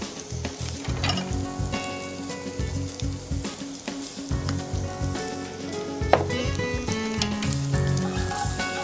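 Spices with red chili powder and salt sizzle loudly in a pan, a dense crackling fry with repeated stirring scrapes and a clink of a utensil partway through.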